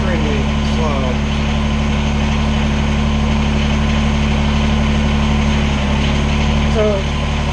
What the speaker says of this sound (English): Now I'm at idle speed, so the hydraulics are, of course, extremely slow.